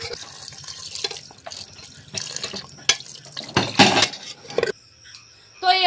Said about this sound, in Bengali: তো পরিমাণ মতো জল দিয়ে দিচ্ছি